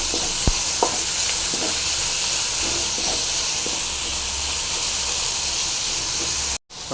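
Vallarai greens and coriander leaves frying in a pan, giving a steady broad hiss and sizzle with a few faint clicks of stirring, constant and close, ending in a brief cutoff.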